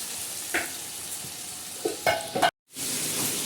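Tempering sizzles steadily in a pan while potatoes are cooked on a clay-coated stove, with a few sharp spoon or ladle clatters, then a brief dropout and the hiss returning.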